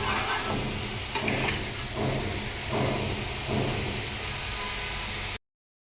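Fresh papaya seasoned with a little turmeric sizzles in a pan with a steady frying hiss, broken by soft, rhythmic stirring swells, before cutting abruptly to silence.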